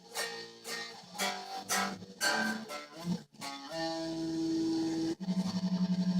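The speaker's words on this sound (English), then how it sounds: "So the beginning part, when guitar 1 first enters, should sound like this." An electric guitar plays an opening riff, with sliding notes, a sustained held tone, then quick palm-muted chugging notes at the end, solo and fairly quiet.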